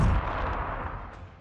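A heavy, booming frag cannon blast rings out as a tabletop wargame sound effect, a loud low thump at the start followed by a long rumbling decay with no talk.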